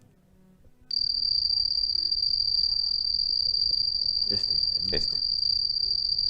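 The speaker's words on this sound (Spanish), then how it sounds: "Este es el grillo del campo" A field cricket gives a steady, continuous high-pitched trill that holds unbroken for several seconds and stays loud and close, with a brief spoken word before it and faint background noise underneath.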